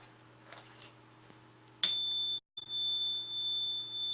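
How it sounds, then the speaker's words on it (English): A Hertz bell or tuning fork, used as a high-vibration sound-healing tool, rings out once with a sudden bright strike and then a steady, pure sustained tone. The tone is briefly cut off, then continues over a quiet room hum. "you want to use your Hertz bell or your tuning forks"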